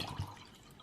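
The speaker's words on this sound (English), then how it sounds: "We're gonna fill it up the beaker with water." Water trickles and drips into a beaker ahead of a vacuum chamber experiment, a brief, faint splashing heard alone.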